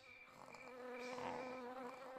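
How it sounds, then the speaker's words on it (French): A mosquito whines with a steady, thin, high-pitched drone that swells slightly louder partway through, close and continuous with no talking. "Je te vois, ce moustique."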